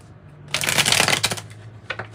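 Tarot cards being shuffled up close, a loud dense burst of riffling flutter lasting about a second, then a brief softer second shuffle, with no talking.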